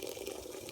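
Diet lemonade pours in a brief, steady fizzy stream into a bowl of oat scone mixture, a close, soft gush of liquid with no voices.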